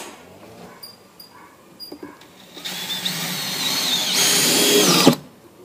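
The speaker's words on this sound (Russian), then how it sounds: "Видите, как круто закручиваются эти саморезы." A power driver drives self-tapping screws into a timber beam while insulating a log house, a steady loud whirring rising in pitch for a few seconds before cutting off abruptly, with faint workshop knocks beforehand.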